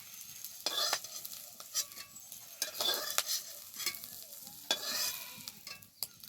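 Fish roe fritters fry in hot oil with a steady soft sizzle, punctuated by several sharp scrapes and taps of a spatula as they are turned and lifted from the pan.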